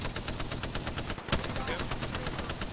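Rapid automatic enemy gunfire in the Apex Legends video game, a steady stream of evenly spaced shots with one sharp louder burst midway, loud and close throughout.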